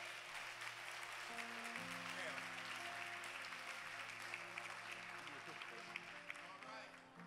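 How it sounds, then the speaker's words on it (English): A church congregation claps steadily for young people walking up to the front, continuous applause running under sustained keyboard or organ chords. "And I want y'all to clap for them when they're coming"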